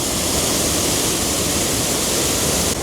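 The flooded River Trent surges past submerged lock gates in a loud, unbroken roar of rushing water, dense and constant like a waterfall, heard close up with no voices.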